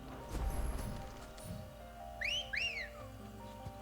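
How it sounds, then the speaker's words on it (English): In Final Fantasy XVI a character whistles for his mount, two quick rising-falling whistle notes a little way off, heard over soft footsteps and faint clip-clop in the game's background ambience. "I like how he whistles sometimes."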